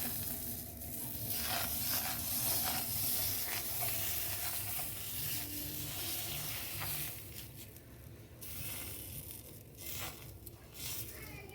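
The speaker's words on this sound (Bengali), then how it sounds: "এরপর আমি একের পর এক এইভাবে রুটিগুলোকে ভেজে নিচ্ছি" Semolina and flour rotis fry in oil in a pan, a continuous soft sizzle and hiss with occasional scraping and stirring noises, fairly faint and close throughout.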